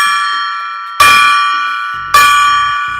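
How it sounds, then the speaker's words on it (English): A golden good-luck gong is struck, ringing loud and close with a long shimmering resonance that fades before the next strike; two hits sound within the span. "This is the good luck golden gong, and I like how it resonates. I'll gong it 4 times quickly."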